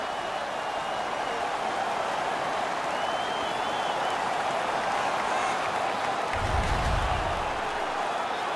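Arena crowd in the NHL 17 hockey video game, Coyotes versus Stars, roaring and cheering in a steady, dense wash of noise throughout, swelling slightly near the end with a low rumble.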